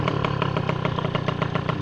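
A freshly restored Magnum Racing XR motorcycle with a new engine idles steadily up close, with an even, rapid putter and mechanical clatter throughout.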